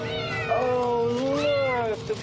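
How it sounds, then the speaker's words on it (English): A cat meows from inside garbage in a movie, one long drawn-out wavering yowl that rises and falls, close and fairly loud over low background noise. "What's a cat in the garbage?"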